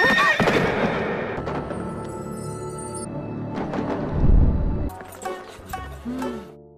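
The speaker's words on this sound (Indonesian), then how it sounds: "dari arah depan, Jirusu menunggang sebuah kuda dan hampir menabrak Xing Yun dan juga Lin Xuan." A horse being ridden in an animated series scene whinnies loudly at close range, then more calls follow with clopping hooves and a heavier thud of movement, all fairly near and with no talk over them.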